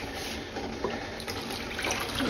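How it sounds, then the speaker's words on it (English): Water from a plastic bottle splashes onto yarn during dyeing, a steady close pouring and spattering rush lasting a couple of seconds without speech. "I'm just going to sploosh it on here."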